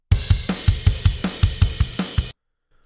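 Full drum kit with a triggered kick drum, an emo-style production: a tight groove of about a dozen punchy, evenly spaced hits with snare and cymbal wash, loud and close, stopping abruptly into silence.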